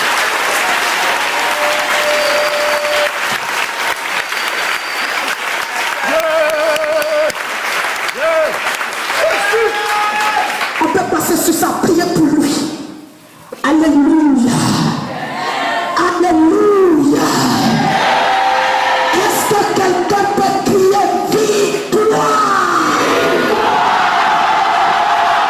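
A Sunday offering service congregation applauds and cheers loudly in a sustained wave of clapping and shouts, with a voice calling out over it and a brief lull midway.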